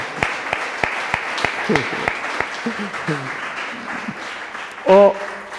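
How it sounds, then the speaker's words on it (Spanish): Audience applause during a sermon event in the Canary Islands, sharp scattered claps ringing out under a preacher's talk, with a few voices calling out. "Denle un aplauso."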